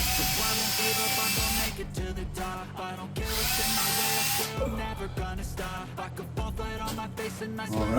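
A power drill bores out plastic from a through hole for an RC motor install: loud whining bursts of the motor, stopping and restarting several times, with grinding chatter between runs.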